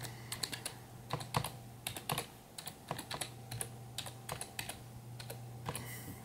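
Typing on a computer keyboard, a steady run of close, crisp key clicks in quick irregular bursts with no talking.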